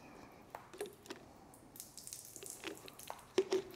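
Water is poured over car shampoo foam on painted car bodywork, a faint close splash and dribble with soft drips and squishy bursts near the end.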